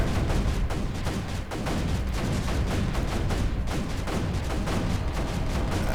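Dense, continuous barrage of booming mortar fire and explosions in the video game Creeper World 3, loud and relentless like a heavy battle with no pauses.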